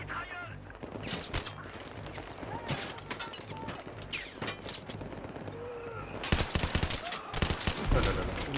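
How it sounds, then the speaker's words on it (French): Machine gun fire in the video game Battlefield 3, loud rapid bursts of gunfire mixed with explosions and combat noise filling the whole clip, with louder volleys near the end. "monte sur le mur et prends cette mitrailleuse."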